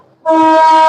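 A train horn at Naihati railway station, a Bardhaman–Sealdah local waiting nearby, blasts in suddenly after a quiet moment and holds a loud, steady, close tone to the end.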